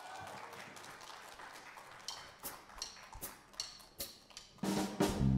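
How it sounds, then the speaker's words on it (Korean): Scattered clapping from an audience at a fusion gugak band concert starts sparse and irregular, then swells into louder, fuller applause near the end. "큰 박수 주세요."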